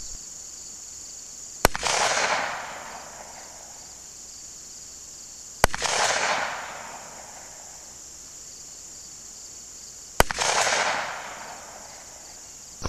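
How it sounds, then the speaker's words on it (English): Three sharp handgun shots fired at 65 yards with 158 grain bullets travelling 830 feet per second, each a loud crack followed by a short echoing tail, spaced about four seconds apart outdoors, with a steady insect-like whine in the background. "Going to take the shots at 65 yards this time."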